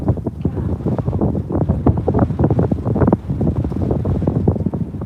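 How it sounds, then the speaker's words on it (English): Strong outdoor wind buffeting a microphone at a Minnesota railway spot, loud rumbling gusts and irregular thumps filling the low end continuously with no voices. "Why do I time these lives when there's so much wind?"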